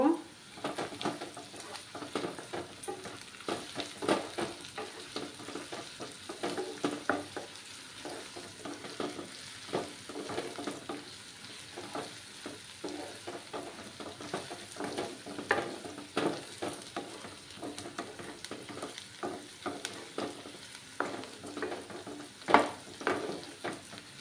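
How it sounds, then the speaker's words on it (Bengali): Grated ginger and garlic cloves fry in a pan for a coconut milk fish curry, giving a steady close sizzle with frequent scraping stirs throughout and no voices. "রসুন 4-5 কোয়া দিয়ে দিলাম, দিয়ে ভালোভাবে ভেজে নেব।"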